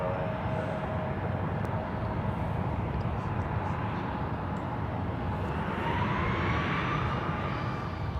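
Airliner taking off from runway 1 left at San Francisco International Airport, a steady broad jet roar building in loudness over several seconds from a distance, with faint radio chatter underneath.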